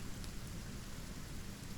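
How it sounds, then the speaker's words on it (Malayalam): Heavy rain pours in a steady, dense hiss with a low rumble beneath it, continuous and close for the whole stretch, with no voices. "മഴ ഇപ്പോൾ കുറയും തോന്നില്ല."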